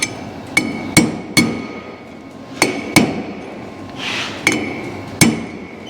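Several sharp, ringing metallic hammer blows drive a small punch to seat a part on a 1956 Chevy truck being modernized, struck in irregular spaced pairs and singles, close and loud, with a brief scraping sound between strikes.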